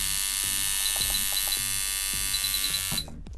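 A coil shader tattoo machine runs with a loud, steady high-pitched electric buzz that drops suddenly near the end, heard close up and alone.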